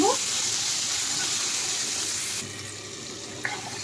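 Long-cut potato slices sizzle steadily in a hot pan while being stirred, for a Bengali-style shol fish curry; the broad hiss eases slightly partway through and a brief scrape sounds near the end.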